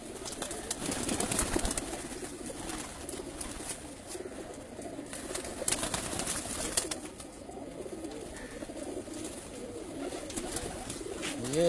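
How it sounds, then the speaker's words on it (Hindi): Pigeons coo softly on a rooftop loft among a flock of kept birds, the faint low calls set against a busy, noisy outdoor background with some distant voices. "सबसे बहादुर कबूतर है ये मेरे पास माशाल्लाह।"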